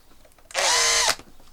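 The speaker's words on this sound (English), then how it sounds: "I have then got a 3mm drill," A 3mm drill bores into a small whittled wooden bird, a single steady high whine lasting about half a second, close and loud against a quiet room.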